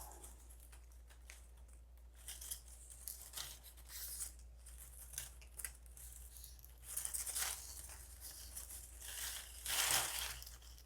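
Basket weaving reed being measured and clipped to length, producing soft snips, crinkles and rustling handling noises at close range over a steady low hum, with no talking.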